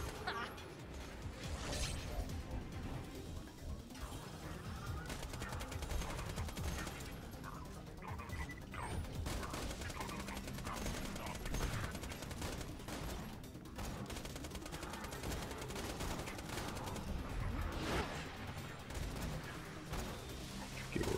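Modded Hyperion SMG gunfire in the Borderlands 2 video game, loud dense sustained bursts of automatic fire with crashes and impacts, continuous throughout with faint voices underneath.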